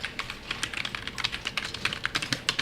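Rapid keystrokes on a computer keyboard as Python code is typed in, a steady run of light, close clicks with no talk over them.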